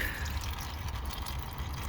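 Engine oil draining from a 2013 Audi Q7 Premium, a steady close liquid trickle and drip running evenly throughout with no voices.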